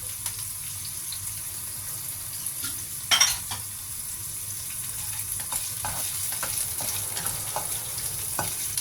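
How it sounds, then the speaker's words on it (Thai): Garlic and dried shrimp stir-fried together in a pan, a soft steady sizzle with repeated scraping and tapping of the spatula and one louder clatter early on. "เอากุ้งแห้งใส่เข้าไปเลยจ้ะ ผัดไปพร้อมกันเลยนะคะ"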